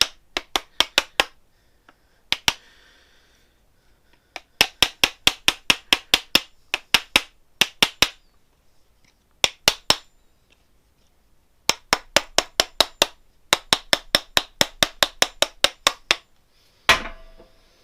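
A hammer beats down high spots on a handmade metal canteen cup lid: crisp, close metallic taps in rapid bursts of several strikes, separated by short pauses.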